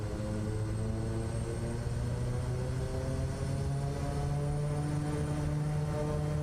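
Aircraft engine in Microsoft Flight Simulator 2024 throttling up, a loud, continuous droning roar with layered steady tones that holds strong and even throughout, with no voices.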